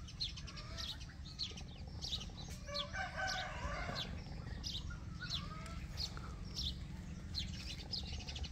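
Chickens clucking and a rooster crowing in a village yard, a steady mix of bird calls and clucks running throughout at moderate closeness over a busy background.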